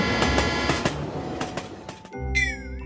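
A train rolls past with rhythmic clickety-clack of wheels over rail joints, close and continuous, then gives way near the end to a steady low rumble and a rising and falling whistle-like tone.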